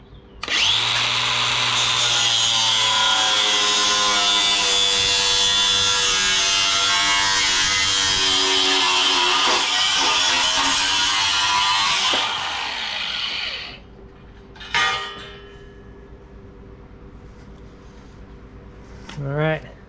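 A cutoff wheel grinds through metal while trimming for a Barricade HD bumper install on a 2019-2023 Ford Ranger FX4, a loud, steady, high-pitched whine held for about thirteen seconds before winding down, followed by a couple of short bursts.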